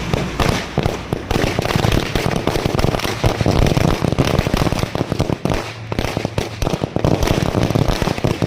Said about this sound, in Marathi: फटाके वगैरे फोडलेत आता.